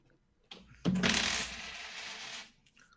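Dice clatter in a tabletop game session: a brief rattle, then a loud sustained tumbling clatter for about a second and a half that fades out, close by with no talk over it.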